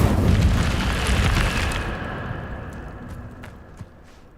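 An Incendio fire spell cast in the video game Hogwarts Legacy: a loud whooshing burst of flame that roars for about two seconds, then fades into a softer crackling tail with a small pop near the end.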